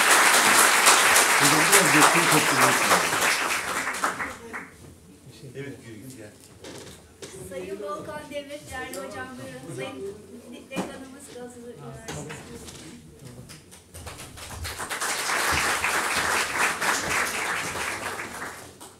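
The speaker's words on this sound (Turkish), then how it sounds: "Hocama bir alkış arkadaşlar" An audience at a panel on independent auditing practice breaks into loud, sustained applause, fades under a stretch of talk, then swells into a second full round of clapping.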